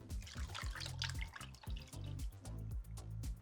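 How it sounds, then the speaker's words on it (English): Tea pours into a kombucha brew through a strainer, a close, steady liquid trickle with dripping and splashing that runs unbroken for a few seconds. "I think I am gonna go ahead and add the rest of this tea."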